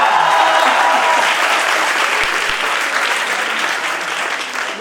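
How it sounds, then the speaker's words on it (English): An audience at a school quiz semifinal claps steadily and densely, the applause holding strong before easing off slightly toward the end, with a faint voice or two underneath. "all of you need to clap"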